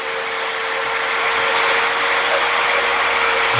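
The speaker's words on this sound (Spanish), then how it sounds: "Empezamos a hacer la perforación, una broca de inicio de 1/4 de pulgada" A DeWalt magnetic base drill bores a hole with a 1/4 inch starter bit, giving a loud, steady whine with a high tone that holds for several seconds, with no talk.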